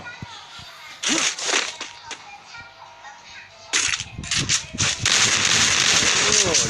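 Gunfire bursts ring out in the mobile battle game Free Fire, sharp repeated shots in clusters during a clan tournament match, with a voice talking excitedly over them.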